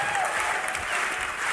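A large crowd applauds and cheers at a Dota esports match. Dense, continuous clapping fills the short stretch at steady volume, with a commentator's voice faintly underneath.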